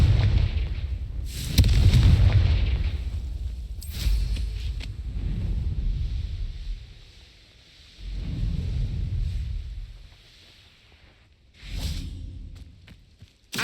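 Confringo spell explosions boom in the video game Hogwarts Legacy, several heavy blasts with whooshing tails and rumbling decay, spaced a few seconds apart.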